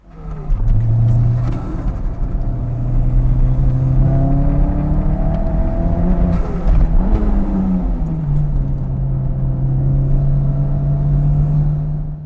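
Toyota MR2, a small mid-engined Japanese sports car, driven hard with its engine revving up and down through gear changes, loud and close for the full stretch, no talk.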